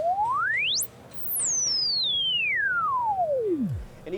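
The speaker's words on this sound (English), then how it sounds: "The module is capable of self-oscillation when resonance is turned all the way up." Qu-bit synth filter module self-oscillating with resonance at full, a pure sine tone sweeping upward to a piercing height, dropping out briefly, then gliding smoothly all the way down to a low rumble, alone and clean.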